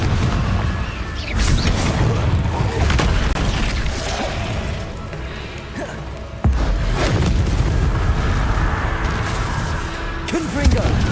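Confringo fire spell explosions in Hogwarts Legacy: repeated loud booms and bursts in a continuous barrage of game combat noise, with voices talking throughout.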